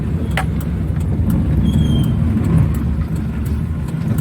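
A Maruti 800 car drives along with a steady low engine rumble and road noise that stays at an even level throughout, with no talking.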